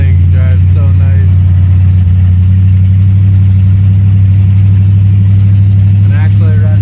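A Lincoln car's engine hums loudly and steadily while driving, a deep, constant drone close by, with a person talking over it at moments.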